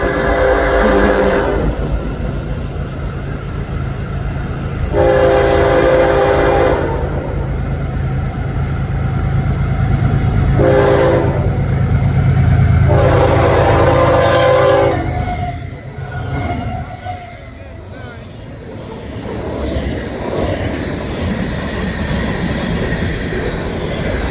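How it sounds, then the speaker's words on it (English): A loud Florida East Coast Railway train rumbles past close by at night, its horn blaring in several long blasts before the roar fades and steady wheel noise continues. "as the train gets closer."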